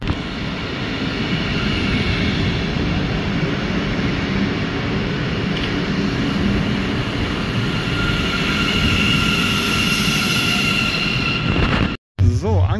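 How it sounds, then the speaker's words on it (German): An S-Bahn commuter train rumbles steadily into a station in Geisenheim, a loud, continuous rolling roar with faint higher whine that holds for several seconds before cutting off abruptly near the end. "S-Bahn müsste eigentlich gleich einlaufen."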